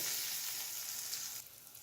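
Hot garlic tempering (tadka) poured into mixed lentil dal sizzles loudly and steadily, then settles into a quieter hiss near the end.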